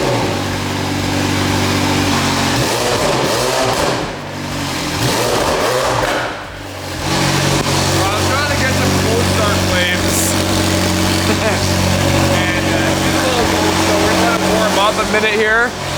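McLaren 720S with a new exhaust, cold starting and revving: a loud, steady engine drone with rising and falling rev swells, briefly dipping mid-way before settling into a sustained idle roar, with voices talking over it.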